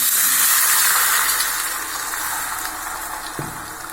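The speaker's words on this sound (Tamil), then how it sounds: "தண்ணி ஊற்றிக்கலாம்." Water poured into masala cooking in a pan, a steady broadband gushing hiss that is loud at first and eases slightly, with a faint clink near the end.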